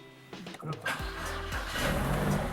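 A BMW car's engine is cranked over again and again after sitting unused for months, the starter whirring in short bursts and the engine catching with a low rumble, close by and loud, with people talking over it.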